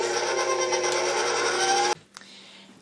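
An electric mixer whirs steadily and loudly through cake batter for buttercream cake, a constant motor drone that cuts off abruptly, followed by a quieter clatter.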